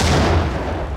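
A single loud explosion from the shooting game Max Payne, a close, heavy boom with broad rumbling noise that decays over about a second.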